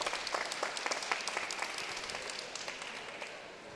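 Texas supporters give a loud, sustained round of applause at a college table tennis nationals coed team quarterfinal, dense clapping that fills the space and eases slightly toward the end.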